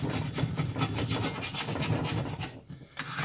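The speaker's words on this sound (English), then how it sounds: "I just scrape the egg off around the edge" Repeated rough scraping of cooked egg off the rim of a cast iron pan, close and continuous with short rhythmic strokes, briefly easing off near the end.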